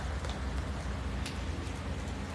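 Steady rain falls outdoors, a continuous broadband patter close by with no one speaking.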